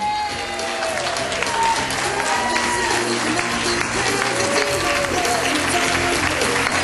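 Wedding guests at Zukas Hilltop clap for a bridesmaid and her two ushers, a steady, dense round of applause that fills the whole stretch, with a few voices and a faint tonal line running beneath it.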